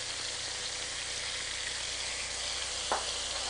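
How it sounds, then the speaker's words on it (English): Steady crackling sizzle of garlic frying in a hot pan, close and continuous, with a brief soft clink near the end. "you have to be very careful, though, that you don't burn garlic when you're frying"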